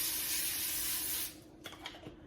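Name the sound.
cooking spray sprayed onto an air fryer liner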